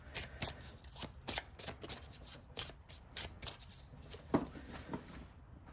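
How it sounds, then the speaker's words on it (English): Tarot cards being shuffled by hand, a series of soft, close riffling and sliding bursts in an uneven rhythm, quiet with no talking. "Let me shuffle these."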